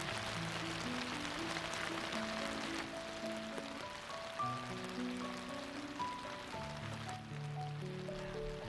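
Steady rain falls over Dal Lake in Kashmir during the monsoon, a soft continuous hiss of drops on water, faint and even, with low tonal sounds drifting beneath it.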